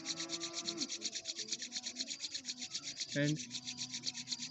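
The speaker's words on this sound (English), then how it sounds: "After pranayama, rub your hand" Palms rubbed briskly together after yoga breathing practice, a steady rhythmic swishing repeated about every quarter second, close and fairly quiet, with a short spoken word partway through.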